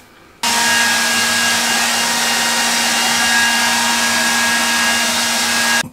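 A hair dryer runs steadily at close range, switching on after a brief pause and holding a loud, even whoosh with a constant motor hum for several seconds, with no talking.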